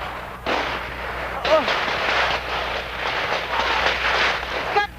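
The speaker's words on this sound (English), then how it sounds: "It's gunfire." Bursts of gunfire during a police assault at Oka, amid tear gas smoke, loud, harsh and continuous crackling close by, with a short exclamation from a voice.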